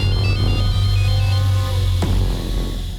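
A telephone rings with a repeating electronic ringtone pattern over a steady low hum, loud and close, with a brief sharp click partway through.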